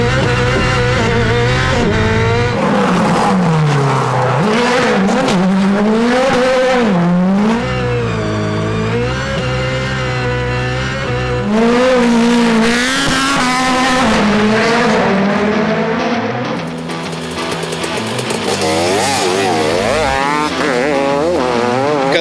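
A gymkhana car engine revving hard off the rev limiter, loud and close, with rising and falling howling revs, sharp stutters and chirping tire squeals, heard alone.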